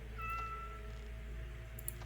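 A cat companion in the video game Skyrim gives a short, clear meow, moderately close and somewhat faint, over a low steady game background hum.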